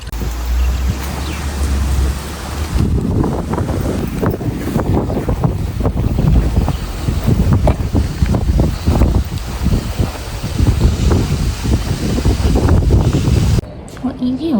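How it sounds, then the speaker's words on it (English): Wind blowing outdoors on a breezy morning, loud gusty buffeting across the microphone throughout with a low rumble, a voice briefly heard under it. "It's nice and windy and breezy at the minute"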